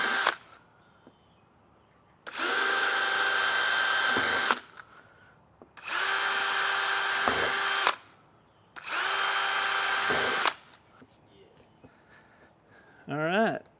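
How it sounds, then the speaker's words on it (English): Power drill boring a small pilot hole for a screw during a backup camera install, three loud, steady whirring bursts of about two seconds each, separated by quiet gaps. "I'm going to make a little pilot hole here before I put the"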